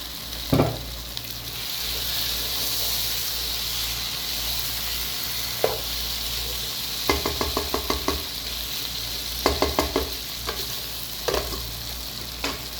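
Okra and green chilies stir-fry in a pan, a constant close hiss of sizzling oil broken by bursts of quick, rhythmic spatula knocks and scrapes against the metal.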